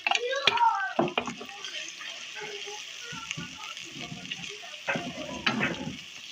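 Turmeric masala frying in a pan for a peas-and-fish curry gives a low, steady sizzle with a few stirring scrapes and clinks, close by, while a person talks over it.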